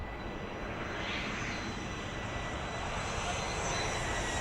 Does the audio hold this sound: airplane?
yes